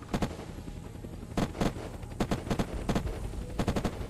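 Rapid bursts of gunfire in the video game Unturned during a cops-versus-bandits castle base defense, clusters of quick shots repeating every second or so, fairly loud and close with no talk over them.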